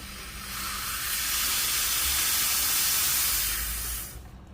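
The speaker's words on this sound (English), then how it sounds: "let me purge the steam a little bit" A La Pavoni Stradivari espresso machine's three-hole steam wand purges, a loud, steady hiss that builds over a second, holds for about three seconds and then cuts off abruptly.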